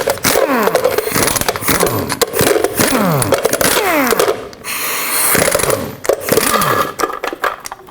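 Lug nut caps come off a Chevrolet Express 3500 wheel under a 22mm socket, likely on an impact wrench, with loud rapid ratcheting and chattering bursts and brief metallic clinks, close up.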